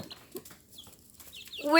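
Short chicken clucks and chirpy calls come in a few scattered bursts nearby, with a louder squawk rising at the end.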